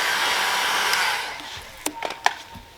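Heat gun blowing hot air onto vinyl car wrap, a steady airy roar for about a second and a half that then cuts off, followed by a few light crinkles and taps of the film.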